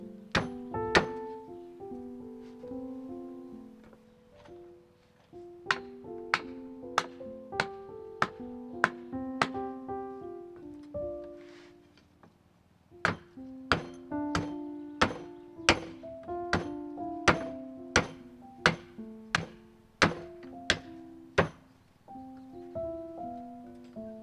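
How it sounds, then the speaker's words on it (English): Wooden wedges being cut by hand for the bottom plate of an 1899 Norwegian post-and-beam house under repair: rhythmic, sharp knocks repeated in steady bursts with brief pauses, close and clear, no talking. "I'm just cutting a few wedges to put underneath the bottom plate"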